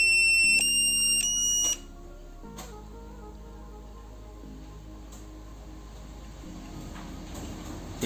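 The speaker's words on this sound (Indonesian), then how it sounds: "sekarang kita pencet tombol ini agak lama, nanti keluar bunyi bip seperti itu" A SkyRC S60 balance charger for a two-cell 7.4 V lithium polymer battery gives a few sharp electronic beeps after its button is held down, clear and close, followed by a quieter electrical hum.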